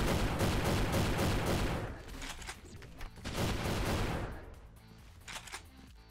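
A shotgun fires repeatedly in the sci-fi shooter Cosmic Call, a rapid series of loud blasts in close rhythm, then scattered quieter shots and impacts as the firing thins out.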